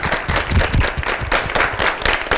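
Loud, close applause from a television studio audience, a burst of many hands clapping in uneven waves that swell and dip over a couple of seconds.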